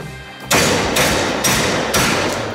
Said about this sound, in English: I just have a hammer, and we'll just do some chops.